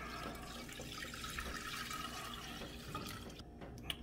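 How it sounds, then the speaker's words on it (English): Four cups of beef stock poured into a cooking pot for meatball gravy, a quiet continuous gush and splash of liquid lasting a few seconds, nearby and alone without speech. "I have 4 cups of beef stock. Going to pour that into our pot."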